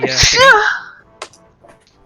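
A single sharp sneeze bursts out near the mic during a tabletop role-playing game session, followed by quieter background sounds and a brief word spoken.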